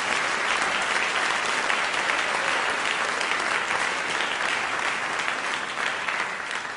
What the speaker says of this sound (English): I just want to actually invite one more round of applause to Bob Rosenkranz for making this all possible.